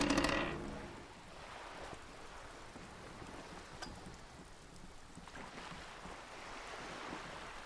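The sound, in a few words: wind flapping a sail, from the video game Disco Elysium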